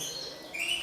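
Canary recovering after treatment, giving a single faint high chirp near the end over a quiet indoor background.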